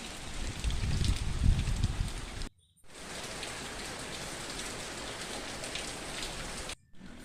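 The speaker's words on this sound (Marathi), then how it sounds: "आमच्याकडे खूप जोरात पाऊस सुरू झाला" Heavy rain pours down steadily outdoors, a dense hiss of drops drumming on surfaces, louder and rumbling at first, then an even roar, briefly cut off twice.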